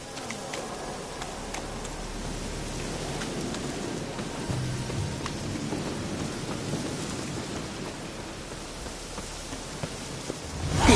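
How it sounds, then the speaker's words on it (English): Rain falls steadily in The Witcher 3 video game, a dense constant hiss on the ground, with low thunder rumbling in the background and a louder roll building at the very end. "Looks like rain."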